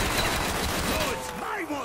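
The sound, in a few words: gunfire in a zombies video game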